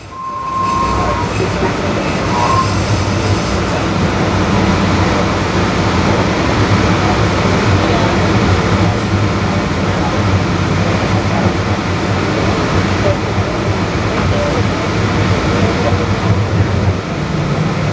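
DART Green Line light rail train rolling toward Bachman Station in Dallas, a steady loud rumble with low hum and faint wheel clatter throughout, carrying on without pause.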